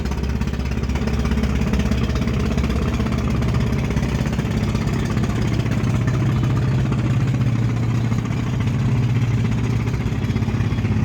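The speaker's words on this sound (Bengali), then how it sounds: "আরেকটি ট্রলার আসছে সামনের দিক থেকে।" A trawler boat's engine drones steadily on a wide river, a loud, continuous low chugging hum with no pauses and no voices.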